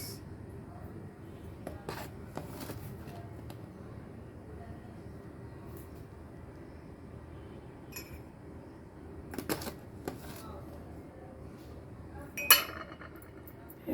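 A metal spoon clinks against a container while two spoonfuls of Horlicks powder are scooped and added. The clinks come as scattered, fairly faint taps over a quiet kitchen background, with a sharper clink near the end.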